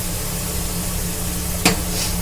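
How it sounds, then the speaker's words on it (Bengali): Steady sizzle of a frying pan with onion, garlic and spices cooking for an egg curry, a brief sharp clink near the end as Kashmiri red chili powder goes in. "এবার আমি এতে অ্যাড করছি Kashmiri red chilli powder, Kashmiri মির্চ।"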